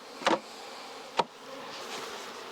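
Honey bees buzzing faintly around hive frames while honey is pulled and bees are brushed off, a low steady hum broken by two brief, sharper whooshes close by.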